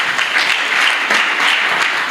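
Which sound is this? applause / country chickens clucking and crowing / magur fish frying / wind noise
applause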